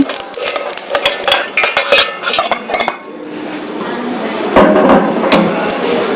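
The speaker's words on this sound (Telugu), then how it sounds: "ఒక రెండు స్పూన్ల వరకు అయితే నువ్వులు వేస్తున్నాను వేగిపోయినాయి" Sesame seeds tossed and roasted in a pan, with quick clinking and scraping of a spoon against metal, then a louder rustling sizzle toward the end, under faint talk.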